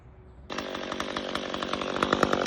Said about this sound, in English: Today I figured I'd make a video on my McCulloch 1010 chainsaws